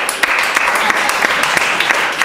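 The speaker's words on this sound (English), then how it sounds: "Very good, can clap for him." A classroom of secondary students claps for a classmate during a mathematics lesson, a brief loud burst of many quick, overlapping hands.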